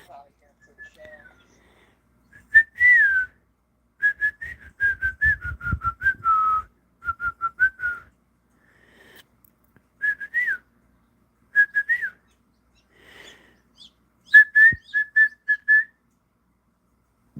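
Ayam Cemani chick hatching from its egg, giving repeated high, thin peeps in short clustered bursts with pauses between them, fairly clear above a quiet background with faint low rustling.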